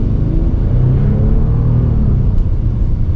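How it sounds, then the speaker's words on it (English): A 600-horsepower Bentley Continental GT Speed in automatic mode accelerates with a deep, loud engine rumble from inside the cabin, its pitch climbing smoothly and steadily. "we're gonna get a little acceleration here with that 600 horsepower"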